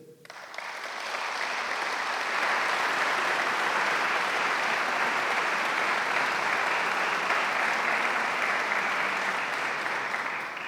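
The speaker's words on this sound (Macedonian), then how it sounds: "за да може да споделим еден аплауз за сите нив" A hall audience at a ceremony marking Tax Officials' Day applauds tax officials, the clapping swelling within a second into dense, steady, sustained applause that holds at full strength for about ten seconds.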